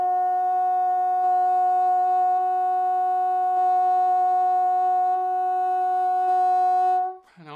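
Sustained bassoon note played at about mezzo piano with the whisper key in its normal position, a steady clean pure tone held for about seven seconds before cutting off abruptly.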